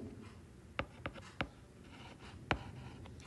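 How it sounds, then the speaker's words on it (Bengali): A pen writes numbers on paper while working a subtraction problem in a Class 9 math lesson on repeating decimals: a few sharp, scratchy strokes and taps at irregular intervals over a quiet room, with no talking. "আমি একটু ভালো করে লিখি"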